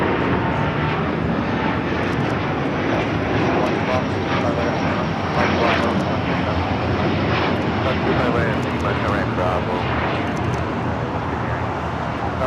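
ITA Airways Airbus A330neo taking off from LAX for Rome, a loud, sustained jet engine roar filling the scene at a steady level, with a voice speaking intermittently over the noise.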